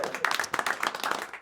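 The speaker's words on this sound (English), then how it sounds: "Clap it up for yourselves" An audience at a stand-up comedy show claps steadily in a dense, even patter of many hands, fairly close and loud, with little talking over it.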